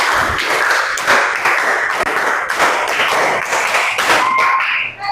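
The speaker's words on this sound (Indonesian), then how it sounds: "3 kali tepuk 5" A classroom group claps together in a counted pattern, with bursts of hand claps and taps rising and falling over five seconds before the sound tapers off near the end.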